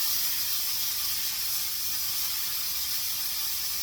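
Peppers sear in a hot pan beside sardines for a Moroccan dish, producing a loud, continuous hissing sizzle that stays steady from start to finish.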